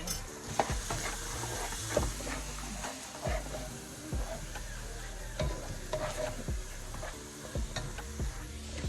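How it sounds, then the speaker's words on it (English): Sauce for a vegan lasagna gets stirred in a sizzling pan, with a spoon repeatedly scraping and knocking against the pan over a constant frying hiss. "Now I'm going to go ahead and give it a stir"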